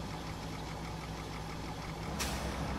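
A rough, unhealthy truck engine in Transport Fever 2, a steady dense idling rumble with a harsh hiss rising near the end, heard alone at moderate level.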